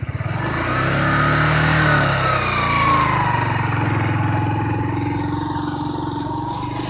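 A motorcycle engine runs steadily and close by, revving and shifting in pitch with a low, droning rumble throughout.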